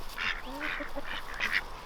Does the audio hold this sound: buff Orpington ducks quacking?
yes